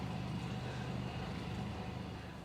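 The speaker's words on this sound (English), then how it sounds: "Oh, I can hear the cars." Road traffic rumbling past on a road beside a bridge over tidal water, a steady continuous low drone held at moderate level throughout with no talk.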